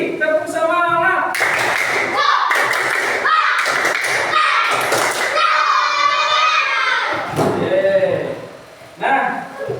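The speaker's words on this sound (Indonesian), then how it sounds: "Sampai lagi, tepuk semangat." Patterned group clapping of a classroom spirit chant arrives in quick rhythmic bursts of claps and taps, with children's voices chanting along throughout.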